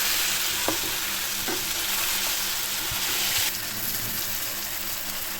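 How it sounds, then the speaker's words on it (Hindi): Beef nihari sizzles and fries in a pot with finely chopped tomato added, while a spoon stirs it with a few scraping knocks; steady close frying hiss without talk. "1 अदद बड़े साइज़ का टमाटर, इसको बारीक कटिंग कर लिया, ये साथ शामिल करेंगे। मज़ीद इसकी 1 से 2 मिनट और भुनाई करेंगे।"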